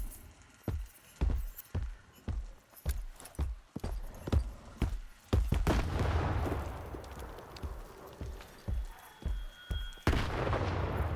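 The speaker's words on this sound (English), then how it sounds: "Let's employ a couple more hand grenades." Hand grenade explosions in S.T.A.L.K.E.R. 2, a run of sharp regular thuds followed by a heavier rumbling blast that lingers, then another burst near the end, all fairly distant and muffled.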